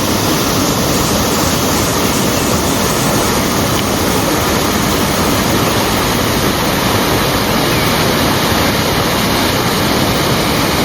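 The Mini Devkund waterfall roars loud and steady, water pounding down in a dense, unbroken rush heard up close with no voices.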